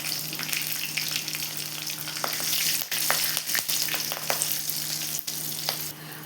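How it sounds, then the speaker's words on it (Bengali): Whole cloves, cardamom and cinnamon sizzle steadily in hot oil for a vegetarian biryani, a close, continuous frying hiss broken by small crackles and pops, with no talking over it. "আমি তেলের মধ্যে লবঙ্গ আর এলাচ আর দারচিনি ফোড়ন দিয়ে দেবো"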